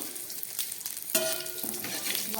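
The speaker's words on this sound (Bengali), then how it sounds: "এইবারে এই তেলের মধ্যে আমি দিয়ে দিচ্ছি একটু তেজপাতা, শুকনো লঙ্কা আর এখানে একটু গরম মশলা আর সাদা জিরে আছে" Bay leaf, dried chilli, garam masala and cumin dropped into hot oil for a stuffed pointed gourd dish, a close steady sizzle with a sharper crackling burst midway.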